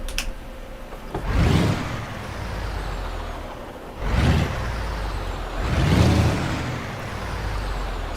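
A heavy truck in American Truck Simulator: a low engine rumble runs throughout, with three loud hissing air-brake releases spaced a few seconds apart.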